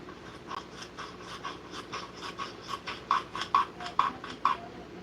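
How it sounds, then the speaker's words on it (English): A hand plane trims a quarter-inch wood miter on a shooting board in a series of about a dozen short, rasping strokes, close up and growing slightly louder toward the end. "Now for pieces this thick, 1/4 inch, I prefer to use a shooting board."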